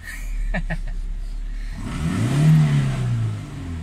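A Toyota Corolla engine revs up, rising to a loud, sustained growl, after a brief low idle with a few short voiced sounds.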